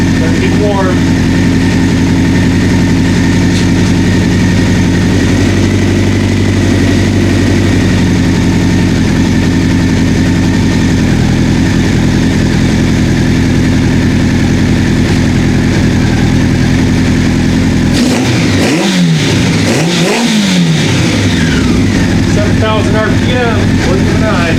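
A 1984 Honda CB700SC motorcycle engine idles loudly and steadily up close, then blips through a few quick revs near the end with no voices.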